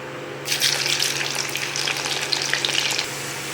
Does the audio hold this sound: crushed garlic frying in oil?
yes